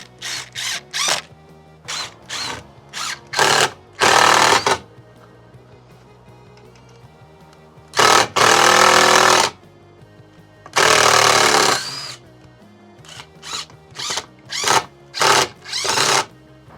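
A power drill drives screws into a greenhouse frame in short loud whirring bursts, several quick pulses then longer runs of a second or more, separated by silent gaps.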